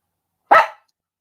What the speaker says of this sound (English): Just stop growling at me.